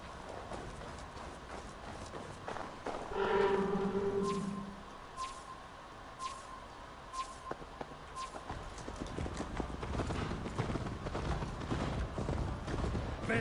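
A horse's hooves clip-clop steadily along a road in Assassin's Creed Valhalla, a rhythmic trot that runs beneath game ambience and a brief swell of other sound.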